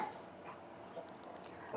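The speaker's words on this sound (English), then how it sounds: "I'm sorry, that was my dogs." Dogs barking faintly in the distance from another room, a few soft yips and whimpers spread through a quiet indoor background.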